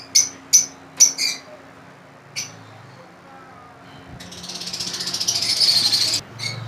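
Lovebirds at a bird farm give a few sharp, close chirps in quick succession, then a continuous high chattering trill builds and holds before cutting off.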